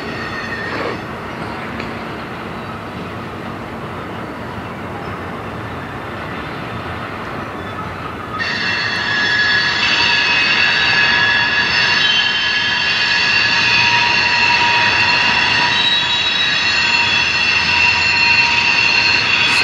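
Loud, sustained metallic squealing of freight train wheels in Fostoria, Ohio, rising over rumbling rail noise, growing sharper and more intense partway through and continuing steadily.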